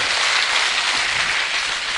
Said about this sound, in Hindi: एक हाथ उठाए और दूसरा हाथ उठा के ताली बजा के बताए कि मैं लिखूंगा